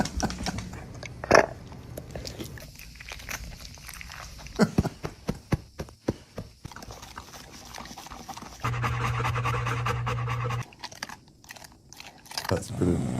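A dog panting and chewing or crunching, with rapid breaths and bite sounds close by, a steady rasping stretch near the end, with some talk mixed in.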